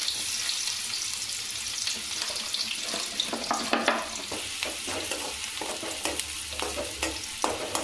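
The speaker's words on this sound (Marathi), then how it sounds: "कांदा छान फ्राय करून घ्यायचा आहे" Onion frying in hot oil while making Maggi noodles, a steady sizzle with clinks and scraping of a stirring spoon against the pan, busier toward the end.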